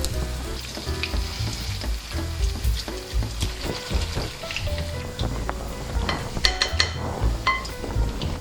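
Halloumi and zucchini fritter batter frying in sunflower oil in a pan, a steady dense sizzle with crackling pops and occasional sharp spatters, close and continuous with no talking.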